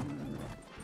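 Horse hooves clip-clopping in a video game, a brief close run of hoofbeats with a faint whinny-like tone underneath.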